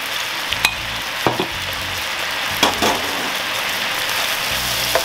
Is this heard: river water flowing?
no